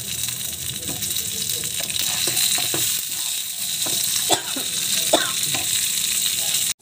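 Tomatoes dropped into onions frying in oil in a pan for a fish curry with potato, cauliflower and white brinjal, a loud close sizzle with stirring scrapes and clatters, ending abruptly.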